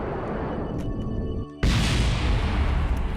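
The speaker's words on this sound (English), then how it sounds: "Oh, there's lots of explosions below me" Low, rumbling booms of explosions in Kerbal Space Program sound from far below. A quieter stretch is followed by a sudden loud, broadband roar that carries on steadily to the end.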